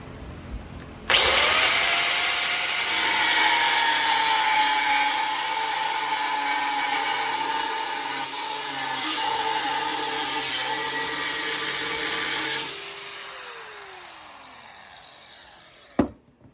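A power tool cuts through a metal seat bracket clamped in a vise, a loud, harsh, steady grinding whine that starts abruptly, runs for about eleven seconds, then stops and winds down, followed by a single sharp knock.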